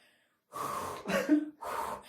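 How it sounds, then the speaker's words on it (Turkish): Two loud, deep breaths drawn in and pushed out in quick succession, close to the mic, with a sharp gasp-like catch between them and no talking. "Derin derin bir nefes alayım."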